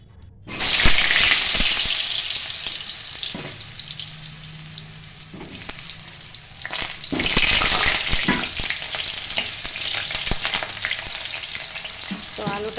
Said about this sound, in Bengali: তেল দিয়ে দিলাম আলু ভাজার জন্য